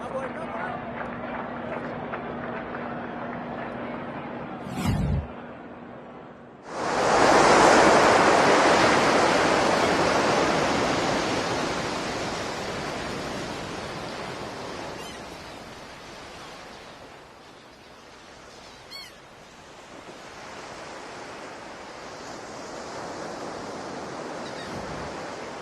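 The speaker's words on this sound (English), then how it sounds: "Sounds of the Atlantic Ocean." Atlantic Ocean surf rushing and washing ashore in a broad, steady roar that swells loudly near the start, then eases into a softer continuous wash, with a brief thump early on.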